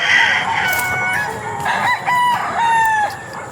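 Several fighting roosters, including grey and spangle birds, crow one after another and overlap, loud and close, with their drawn-out calls filling the whole stretch.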